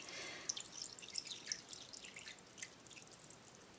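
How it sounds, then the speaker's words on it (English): Water pours and drips into an AeroGarden reservoir during filling, a faint close trickle with small splashes, alone. "I am filling it with water to the fill to here mark"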